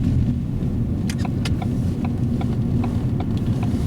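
Car on the road during a driving lesson, turning left at a crossroads, with a steady loud low engine and road rumble from inside the cabin and faint ticking from the indicator.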